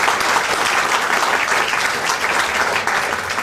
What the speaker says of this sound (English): I'd like to give all of them a big round of applause